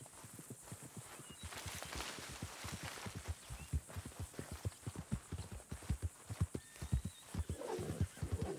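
A horse in the Red Dead Redemption 2 video game clip-clops along in a steady, rapid hoofbeat rhythm, then gives a whinnying neigh near the end, fairly quiet and with no talking over it.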